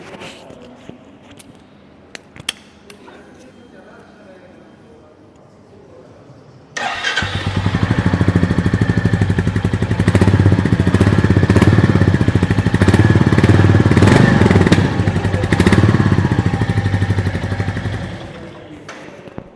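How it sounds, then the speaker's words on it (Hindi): A 2025 Royal Enfield Goan Classic 350 motorcycle sits quietly with a few small clicks, then its engine fires and runs loud and close, a thumping single-cylinder exhaust note that holds steady before cutting off at the end. "अब बात कर लेते हैं about the exhaust note of this Goan classic 350"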